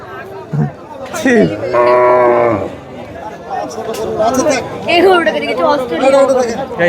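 Cattle at a crowded Eid cattle market, with one drawn-out, mooing-like call rising above steady chatter and nearby voices as people talk throughout.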